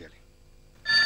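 A telephone bell rings in an indoor film scene, a sudden loud electronic ring bursting in near the end after a quiet pause that follows a short bit of voice.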